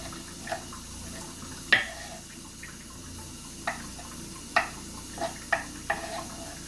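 Vegetables being rinsed under a running kitchen tap during dinner preparation: a soft steady water hiss with scattered sharp splashes and knocks at irregular intervals, fairly close.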